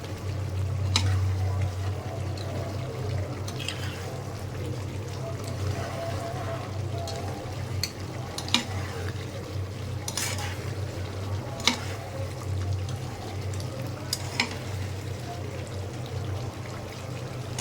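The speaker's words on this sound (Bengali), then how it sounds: "মাংস থেকে জল বেরিয়েছে, ভাজা হয়ে আসছে প্রায়।" Steady hissing sizzle of mutton frying in a pan, releasing its water, with occasional sharp scrapes and clinks over a low constant hum.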